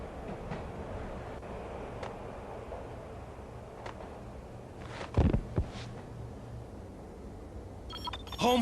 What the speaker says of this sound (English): I'd have to get it back on to get the train moving.